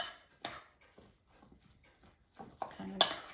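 Beaten egg is stirred into grated potato latke batter in a bowl, producing faint, soft scraping and clinking of a utensil, with a brief clatter early on and louder wet stirring and clinks near the end.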